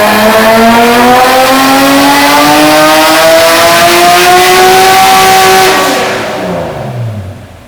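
An Acura NSX engine revs hard on a dyno under a clutch-slip tuning session, a loud sustained climbing howl through the gears that cuts off near the end as the revs fall away.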